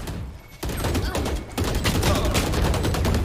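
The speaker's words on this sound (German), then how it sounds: "Mein Gott, was sind die Schüsse, ey?" Rapid bursts of gunfire crackle in dense, loud volleys, the shots coming thick and fast in a Valorant battle.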